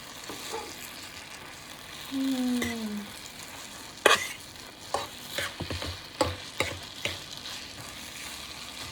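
Korat-style rice noodles are stir-fried in a pan, with quiet, intermittent scraping and clanking strokes of a utensil over a faint sizzle, a brief tonal squeal early on, and no talk.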